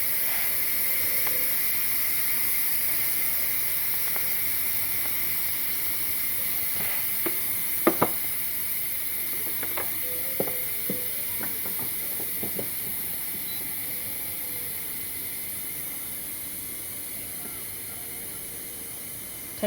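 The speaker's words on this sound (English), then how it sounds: "go up here to the steam vent and release the rest of the pressure" A pressure cooker's steam vent lets off pressure after cooking chicken risotto, giving a loud, continuous hiss that holds steady for about twenty seconds and fades slightly, with a few faint clicks and taps.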